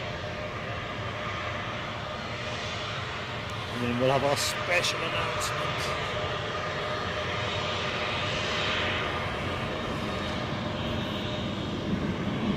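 A fixed-wing airliner roars past at Newcastle airport, a broad sustained engine rumble that swells slightly midway, while someone speaks briefly over it near the middle.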